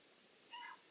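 A spoiled house cat named Ozzy gives a single short, faint meow outdoors on a cold night by a bonfire, over a low steady background hiss.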